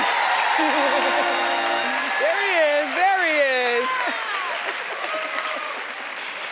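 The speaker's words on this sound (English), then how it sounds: "Keep clapping, a little louder is always good here." Studio audience applauding and clapping on a television talk show, a steady wash of clapping throughout with someone talking loudly over it.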